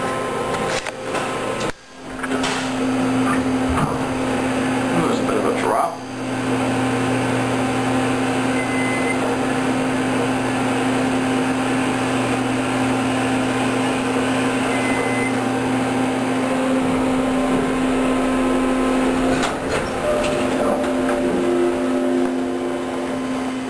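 Steady, loud hum of a running Otis hydraulic elevator, with a constant motor drone and tonal whine, a few brief dips and clunks near the start, continuing unbroken throughout with no speech.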